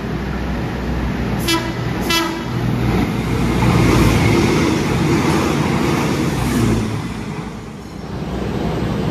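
Pasundan New Generation economy-class train rolling along the rails toward Bandung, a loud, steady rumble and clatter of wagons with a couple of brief tonal blasts early on, no talking.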